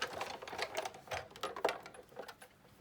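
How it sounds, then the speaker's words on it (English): A Sizzix die-cutting machine cuts through card stock in a single pass, producing a close, quiet run of rapid mechanical clicks and ratcheting ticks with no talking. "if I flip it that direction and I put it at an angle and then run it through the machine, it cuts"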